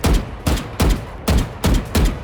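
Six evenly spaced single gunshots tap-fired in Valorant, each a loud, close, punchy crack with a short decay, about two or three per second and no other sound.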